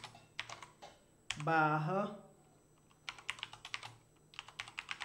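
Keys clatter on a computer keyboard as a Python command is typed into a terminal, quick irregular bursts of clicks before and after a short stretch of a person speaking.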